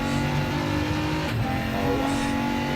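A BMW race car in a racing video game accelerates hard out of a corner, its engine roaring loud and steady with a broad, continuous drone throughout.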